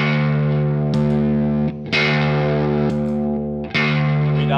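A low bass note played on one string through a Dophix effects pedal sounds thick and distorted. It is struck three times, each note sustaining loudly with a sharp pluck at the start.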